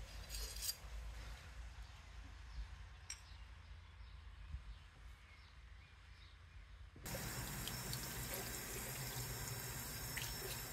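Running water from a tap pours over a forged medieval dagger blade being washed, a steady close splashing that grows louder and fuller partway through, with faint clinks underneath.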